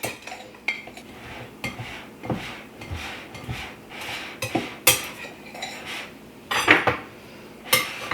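A knife stirs a gluten-free peach rhubarb cobbler mixture with chunks of butter in a dish, giving irregular close clinks, scrapes and taps against the dish, with sharper knocks scattered throughout.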